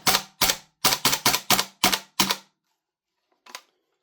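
A brand-new WellPro PPK-20 gas blowback airsoft SMG fires a magazine: eight sharp, loud reports in a rapid, slightly uneven string, then a pause before one weaker, isolated shot.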